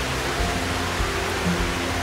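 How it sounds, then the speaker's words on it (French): A steady, dense rush of falling water fills the clip evenly, like a waterfall heard from a moderate distance, with no voices. "il y a une belle cascade en face là."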